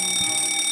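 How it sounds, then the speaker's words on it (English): A cartoon fire alarm rings continuously in a loud, steady, high electronic tone that holds without a break, with no voices over it. "You pulled the fire alarm again?"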